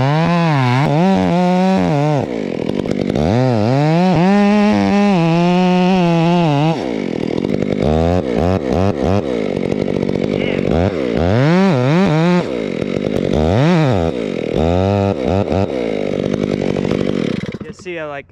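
Stihl chainsaw fitted with a Hexa chain felling a tree, the engine roaring loud and close with repeated throttle surges rising and falling throughout, while a voice talks over parts of the cutting.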